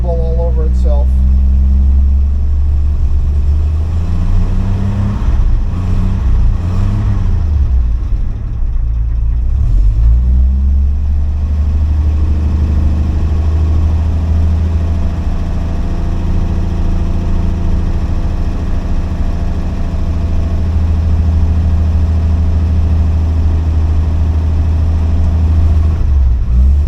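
A cold engine idles rough and uneven, as if starved of fuel, with a loud low rumble that stumbles and surges briefly before settling into a steady drone, while someone talks over it.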